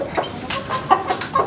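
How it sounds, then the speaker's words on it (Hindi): Angry rooster clucking close by in a quick series of sharp, choppy clucks with short gaps between them. "मुर्गा गुस्सा कर रहा है इस पर और मुझ पर भी"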